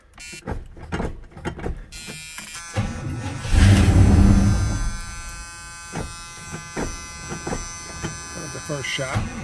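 A 1980 Turbo Trans Am's engine cranks and catches on a cold start, a loud rising roar that settles into a steady idle rumble, with short clicks and a voice talking at the start.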